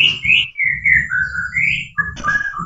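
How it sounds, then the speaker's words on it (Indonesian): Caged pet birds that were bought and kept at home chirp close by. Their clear, bright whistles rise and fall in a run of short, sliding notes, with a few sharper tweets near the end. "Enak suara burung itu kan?"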